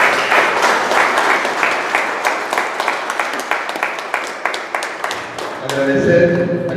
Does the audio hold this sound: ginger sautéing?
no